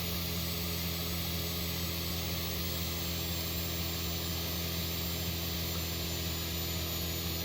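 A turbocharged Volkswagen car engine in The Long Drive video game labours up a steep hill, giving a loud, steady droning hum with sustained tonal whine and no pauses.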